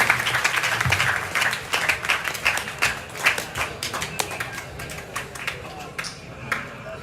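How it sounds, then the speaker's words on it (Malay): Audience applause at an Islamic boarding school recitation contest in Aceh, a dense patter of hand claps that thins out and fades toward the end, with voices murmuring beneath it. "Tepuk tangan"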